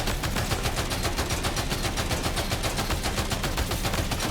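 Rapid, evenly spaced gunfire in Death Stranding 2, a loud unbroken string of sharp shots with a steady mechanical rhythm, alone with no talk.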